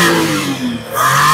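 A Perodua Viva 1.0 with automatic transmission, suffering rough running and shaking, revs its engine up and back down in a close, loud, rattling surge.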